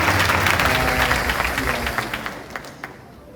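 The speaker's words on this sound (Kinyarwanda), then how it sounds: "Let us clap for them." An awards-ceremony audience breaks into a burst of clapping, full at first and then thinning into scattered claps as it fades out.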